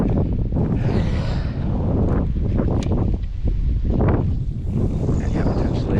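Strong wind blows beside the Fox River, buffeting the microphone in loud, rumbling gusts with rustling weeds and leaves underneath.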